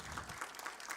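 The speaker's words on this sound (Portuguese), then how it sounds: "Uma salva de palmas" Brief, steady applause from an audience at a formal ceremony honoring José Carlos Lima, the fourth and final medal honoree, dense clapping heard alone.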